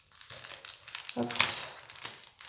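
Die-cut stickers slid back into a plastic packet give off soft crinkling and rustling close to the listener, low in volume and brief.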